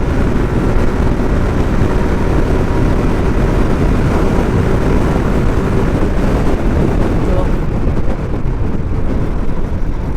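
A motorcycle speeds along the highway between Kushtia and Dhaka, producing a loud, steady rushing roar of engine and wind buffeting that stays unbroken for the whole stretch.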